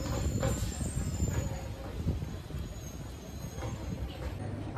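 A train pulling out of Prinsep Ghat station in Kolkata gives a steady low rumble and clatter of rolling wheels that holds throughout, moderately loud with a faint background murmur.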